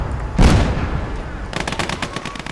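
A loud booming tank cannon shot in a Gates of Hell WWII battle between Finland and the USSR, followed by rapid machine-gun fire rattling in a steady stream.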